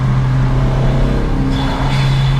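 A Honda Civic Si making about 250 wheel horsepower runs loud and up close, its steady engine drone lingering as the revs hang between throttle blips. No one talks over it.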